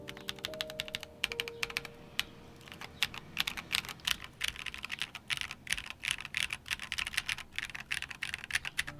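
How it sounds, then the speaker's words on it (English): Fast continuous typing on a custom-built Wind X mechanical keyboard, dense clacky keystrokes with a hollow case resonance and a low tonal ring early on, close and alone without speech. "Oh, you can hear a lot of resonance down here."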